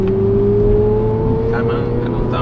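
A Renault Megane 1.9dCi on a race track pulls hard in third gear, its diesel engine drone rising steadily in pitch as it accelerates, heard from inside the cabin as a continuous loud hum.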